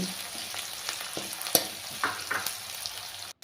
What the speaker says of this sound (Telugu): 2 పచ్చిమిర్చి ముక్కలు తరుక్కొని ఇలా వేసుకొని ఫ్రై చేసుకోవాలి